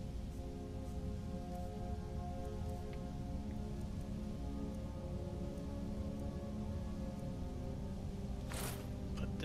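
Steady lightning storm pouring down from the sky in Skyrim, heard as a dense, continuous rain-like hiss with scattered crackles and a brief brighter burst near the end, with no voices.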